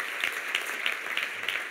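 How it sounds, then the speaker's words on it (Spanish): A congregation applauds during a Spanish-language sermon, a sustained burst of many hands clapping with a few louder rhythmic claps standing out, fairly close and without speech. "Le da ese aplauso fuerte"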